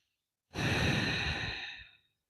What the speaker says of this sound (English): stay here, long deep breathing